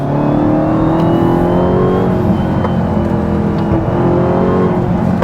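A Dodge Charger Hellcat Widebody pulls up a mountain road under steady throttle, its engine a loud, continuous, close-up drone that holds for the whole stretch with no talking.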